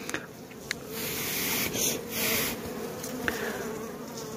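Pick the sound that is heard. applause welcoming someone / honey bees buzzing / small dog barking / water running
honey bees buzzing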